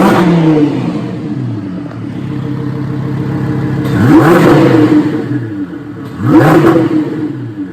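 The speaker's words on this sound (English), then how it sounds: "Let's do a quick rev." A twin-turbo 2015 Lamborghini Huracan with a Heffner kit revs while standing still, sending two loud, rising blips over a rough idle, each climbing quickly and falling back, close up.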